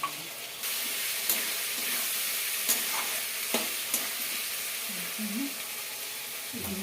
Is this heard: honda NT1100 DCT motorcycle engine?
no